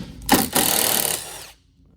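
A power tool whirs loudly for about a second as it drives bolts out of a rear flip seat on a 2004-or-later Club Car Precedent golf cart, starting with a short burst, then a steady spin that stops abruptly.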